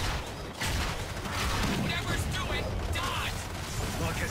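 Turret gunfire in the video game Evolve rattles continuously, a dense, loud stream of shots and mechanical clatter with people talking over it.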